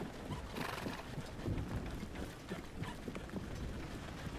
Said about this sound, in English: you hear from the horse is just like it's just neighing and doing the little huff like through its nostrils